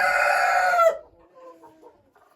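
Mother hens that had been raising chicks let out a loud crow-like call, then trail off into a few soft, close clucks.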